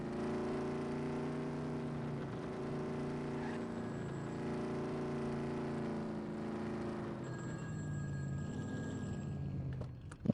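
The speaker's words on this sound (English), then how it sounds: "Love the vehicle sounds." A vehicle engine in the video game The Precinct drones at a steady, moderate level, holding a constant humming tone, then shifts pitch near the end before a brief louder burst.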